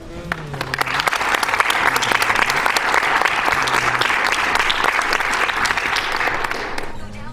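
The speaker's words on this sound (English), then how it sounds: "that deserves some serious applause" A crowd at a charity speedrun marathon event claps steadily for about seven seconds, dense and loud, with a few low tones sounding beneath the applause.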